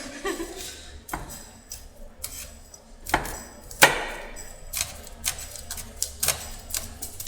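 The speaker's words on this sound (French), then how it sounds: "J'aime bien hacher." Knife chopping shallots on a cutting board, irregular sharp taps at varied pace, some louder strikes, quiet kitchen setting.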